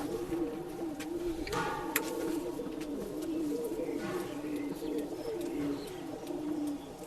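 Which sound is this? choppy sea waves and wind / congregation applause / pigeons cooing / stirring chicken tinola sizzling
pigeons cooing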